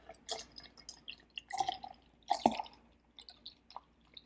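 Dragon's Milk beer is poured into a glass, with scattered drips, splashes and wet glugging bursts, quiet and close, and a louder splash near the middle.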